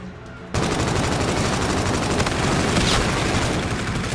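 Video game gunfire sounds as a continuous dense burst of rapid automatic shots, loud and close, beginning abruptly and lasting several seconds.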